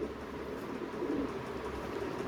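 A pigeon at a breeder's loft gives a low, soft, throaty coo that hums steadily through a quiet background.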